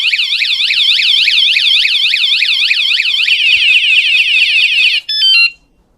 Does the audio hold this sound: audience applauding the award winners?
no